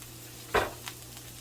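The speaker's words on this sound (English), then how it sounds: "And we are going to add our onions" Onions frying in a pan with a touch of oil, heard as a steady close sizzle. A sharp scrape of stirring cuts in partway through and a fainter clink follows. Nobody talks.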